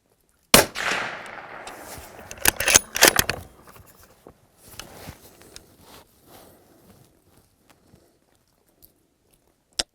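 Suppressed 6.5 Creedmoor shots from a Ruger Precision Rifle: a sharp report near the start, then a cluster of several quick loud cracks, followed by fainter scattered clicks and handling noise tapering off into near silence.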